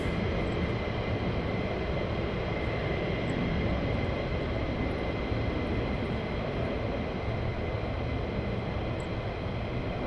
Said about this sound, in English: Yeah, so we have an aborted takeoff